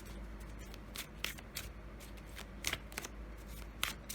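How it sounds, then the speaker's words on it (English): A quick shuffle of tarot cards nearby: crisp riffling bursts and soft slaps in an irregular rhythm over a steady low background hum, with no voices. "Let me do one more quick shuffle"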